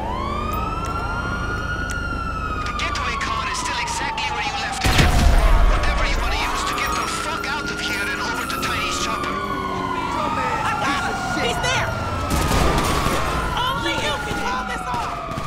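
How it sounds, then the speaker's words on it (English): Police sirens wail in GTA Online, several overlapping sweeping tones rising and falling continuously amid loud game action, with a burst of gunfire or impact noise partway through. "Oh, those sirens are everywhere!"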